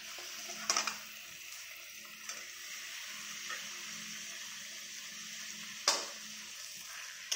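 Chicken meat frying in hot oil spiced with chili powder: a soft, continuous sizzle and hiss with occasional sharp knocks of a spoon stirring against the pan, close but fairly quiet, with no talking.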